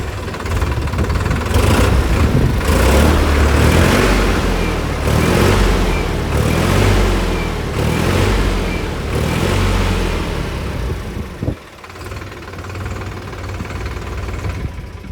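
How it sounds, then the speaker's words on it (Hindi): A Solis 4415 E 44 HP tractor diesel engine runs with a loud, rhythmic throbbing idle that pulses steadily, dips briefly with a sharp clunk near the end, then settles back into a steady idle. "तो चलिए इस ट्रैक्टर को चालू करते हैं और इसका आवाज़ सुनाते हैं आपको।"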